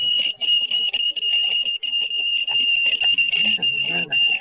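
A Morse code signal in international code plays back from a tape reel: a high, steady beeping tone that runs nearly continuously with brief gaps, over faint background murmur.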